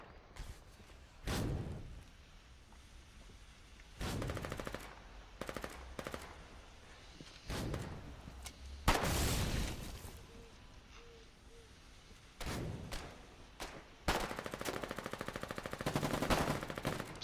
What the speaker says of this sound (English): So many machine guns